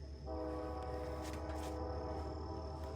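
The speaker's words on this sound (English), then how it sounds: "Bro, what's the train doing?" A train passing nearby, its horn sounding as a sustained loud tone over a low rumble of rail noise.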